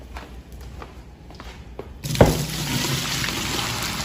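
Boiling water and vinegar are poured off a pot of meat into a sink, a sudden splash then a steady, close rushing pour after a few faint knocks.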